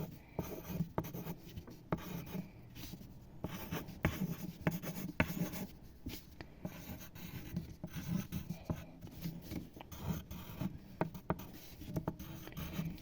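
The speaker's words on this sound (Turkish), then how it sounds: "Arkadaşlar şimdi buradan kağıt alıp geldim yazıyorum." A pen writes on a sheet of paper with quiet, close, scratchy strokes. Short bursts and small taps follow each other steadily, with no voices over them.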